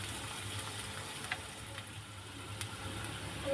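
Turmeric-spiced mushroom and capsicum curry fries in a pan with a soft, steady sizzle, faint and close, broken by a few light clinks of a spoon.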